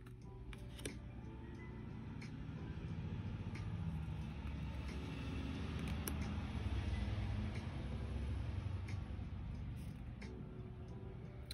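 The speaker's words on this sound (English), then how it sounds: "We have quite a bit of construction going on around here, so if you hear traffic, my apologies" Low, steady rumble of distant road traffic outside near ongoing construction, a faint continuous wash with a few small ticks and knocks, no talking.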